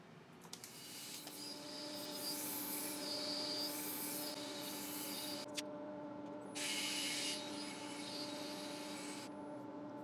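Steady abrasive rubbing of sandpaper against the underside of a wooden bowl spinning on a woodturning lathe, continuous and close, with short pauses and shifts in pressure, alongside the hum of a dust extractor.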